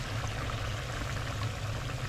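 Hot water pours in a steady, continuous stream into a cooking pot of chicken kaldereta as broth, close by and fairly quiet.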